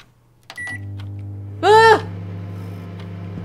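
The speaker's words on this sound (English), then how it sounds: "it's my microwave." A microwave oven in the video game The Convenience Store starts with a click and settles into a steady low hum, with a short warbling electronic tone partway through.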